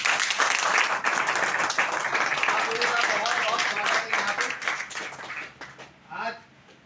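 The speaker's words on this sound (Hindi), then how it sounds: "जिन्होंने इन्वाइट किया है वो ताली बजाएंगे इनके लिए" Applause from an audience at a cryptocurrency seminar, as attendees clap for those who invited newcomers, a dense and loud burst of many hands that thins out and fades near the end.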